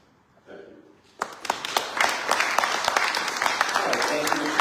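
An audience breaks into sustained applause at a Republican primary debate for Texas' 33rd Congressional District, starting after a brief murmur and swelling into a dense, steady clapping that continues to the end.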